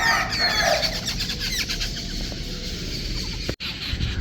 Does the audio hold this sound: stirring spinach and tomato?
no